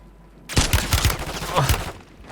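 Several rifle shots from a Kar98k in Call of Duty Warzone crack in quick succession, loud and close, over a brief stretch of in-game battle noise.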